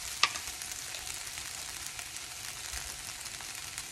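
Sabudana (tapioca pearls) frying in a pan gives a steady, close sizzle with fine crackling throughout and one sharper pop near the start, with no talking.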